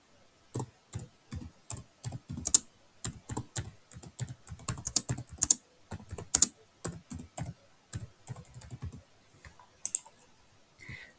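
Fast bursts of close, crisp keystrokes on a computer keyboard, typing a date and lesson topic into an online classroom post, clicking in uneven runs with short pauses and no talking.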